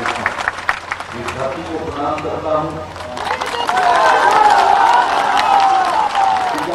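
A large crowd at a Bihar election rally fills the air with loud murmuring, scattered clapping and rising cheers, while a voice talks over the noise.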